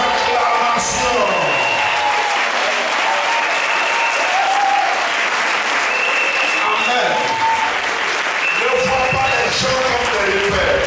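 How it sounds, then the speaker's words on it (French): A church congregation applauds and cheers throughout, a steady dense wash of clapping with voices and shouts mixed in. "Est-ce que le peuple de Dieu peut m'aider à remercier l'Éternel par des acclamations?"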